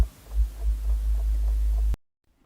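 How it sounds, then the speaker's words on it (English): A low, steady humming drone with a faint throbbing pulse, set in a reenactment of a nighttime paranormal disturbance, holds for about two seconds and then cuts off abruptly into silence. "Linda was suddenly woken up by a low humming sound"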